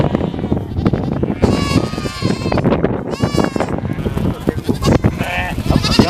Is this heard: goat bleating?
yes